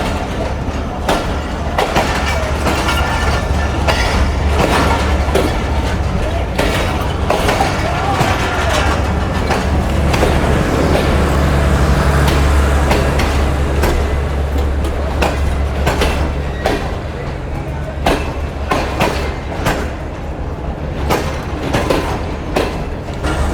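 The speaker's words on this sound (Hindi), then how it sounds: "अभी दोस्तों तो ट्रेन हमारी आ चुकी है" The Tezgam passenger train rolls into a station with a steady low rumble and clattering wheels over rail joints, loud and close for a long stretch, with faint background voices.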